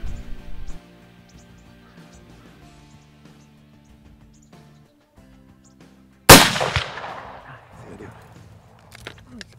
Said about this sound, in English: bared down on his rifle and readied himself for the shot